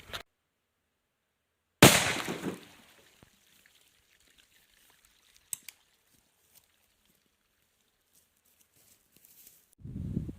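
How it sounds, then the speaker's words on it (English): A .410 shotgun fires a single 3-inch slug outdoors: one sharp, loud blast that trails off quickly into near silence with a few faint ticks, followed by some rustling at the end. "we'll go and test, I think now, the 3 inch slug with the same load"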